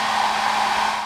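Hair dryer blowing in one steady, loud, continuous whir with no break.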